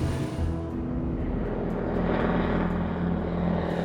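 A small propeller airplane drones steadily in flight over the remote Outback, a loud, constant engine and prop roar heard from inside the cabin.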